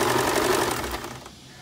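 A sewing machine stitches piping cord onto a blouse neckline. The motor whirs close and steady for about a second, then slows and stops.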